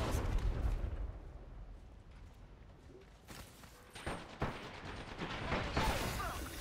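Crossfire of gunshots during an Apex Legends battle royale match, with sporadic shots and bursts coming from several directions amid constant game noise, some near and sharp, others more distant, with no voices over it.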